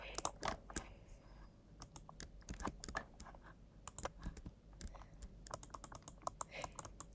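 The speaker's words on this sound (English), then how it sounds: "Let's type this." Rapid, irregular keystrokes on a computer keyboard during a Figma design session, close and fairly quiet, with bursts and short pauses over a soft background.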